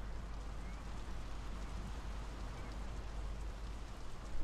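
Steady rain falling in the game Draugen, a constant wash of patter with no clear drops standing out, even in level throughout and heard alone.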